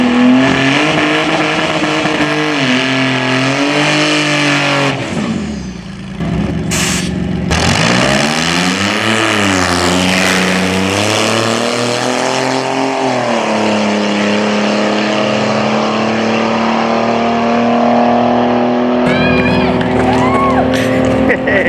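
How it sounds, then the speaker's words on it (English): A powerful car engine at a racing event revs hard and accelerates in a long sustained roar that rises and falls in pitch, loud and close, with people talking over it at moments. "Time to let a big car in."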